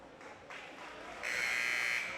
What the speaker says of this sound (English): And there's the first buzzer.